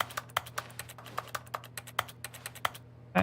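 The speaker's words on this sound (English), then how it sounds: "Make it sound like a keyboard." Rapid keyboard clacking plays as a sound effect for a plant in the video game The Stanley Parable Ultra Deluxe, a close, irregular run of crisp key taps over a low steady hum, ending in a louder final clack.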